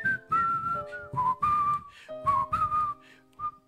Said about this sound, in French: They will whistle hallelujah song.